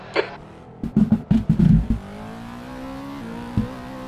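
A Cadillac V-Series.R race car on a track at Oulton Park, its engine blipping through a quick burst of sharp revs, then settling into a steady droning pull with one last short blip, close and loud.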